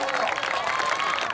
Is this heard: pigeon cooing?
no